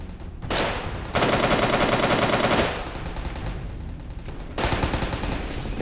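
Sustained automatic gunfire in the Soviet Soldier video game, loud continuous bursts with brief gaps between volleys, no talking.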